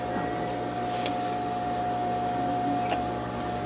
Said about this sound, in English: You can sew this all the way around.